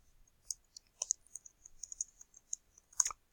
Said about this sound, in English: you do that just by clicking up here